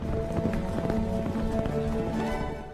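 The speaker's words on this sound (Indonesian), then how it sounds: "Taiman mengajak Sartai dan Korlan lomba balap kuda ke kawasan padang rumput" Horses galloping across open grassland in a horse race, a steady dense run of hoofbeats with a strong drumming rhythm throughout, fairly loud and continuous, fading slightly at the end.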